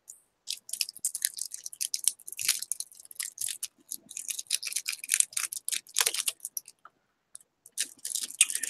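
Hard candy being chewed close to the mic, with irregular bursts of crisp crunching and cracking separated by short pauses, no talking.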